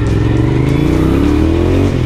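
Motorcycle engine revving as the bike is ridden through a city street in Queens, a steady close mid-range engine drone with a rising pitch, alone without talk.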